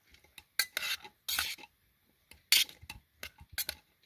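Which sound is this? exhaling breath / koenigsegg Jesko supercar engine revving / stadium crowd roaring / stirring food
stirring food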